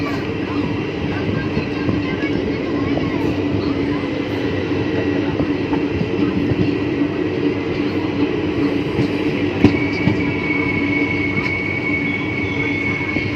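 Inside a carriage of the Geeta Jayanti Express, a steady loud rumble and hum of the moving train fills the compartment, with faint rail clatter and one sharp clank near the end.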